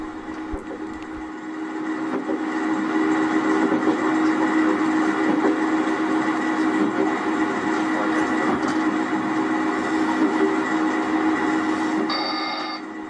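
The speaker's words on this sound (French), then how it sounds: "On pose des wagons pleins et on fait des manœuvres avec le locotracteur qui est là-bas sur place pour redescendre des wagons vides" On a rural French railway line, a small locotractor shunts freight wagons, producing a steady, moderately loud mechanical rumble and drone that holds evenly for most of the stretch without voices.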